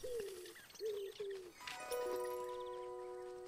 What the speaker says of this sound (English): Common wood pigeon.